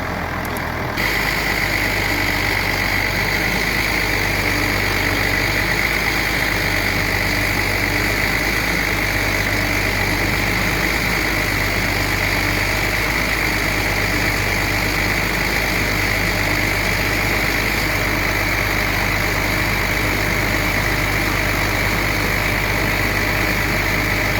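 A truck-like engine on a shrimp farm runs at a steady, loud idle throughout, with a low rhythmic pulse and no clear surge in pitch, droning on without a break.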